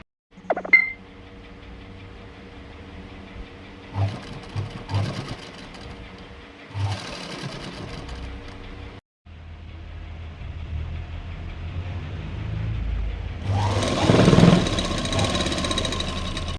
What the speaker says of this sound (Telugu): ఇట్లా సింగిల్ పాదం పెట్టుకొని ఇప్పుడు స్టిచ్ చేసుకుంటున్నాను